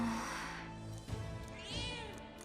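A cat meows once in the fantasy role-playing game Metaphor: ReFantazio, a clear, close, drawn-out mew rising over a soft game music bed, with a second higher call trailing near the end.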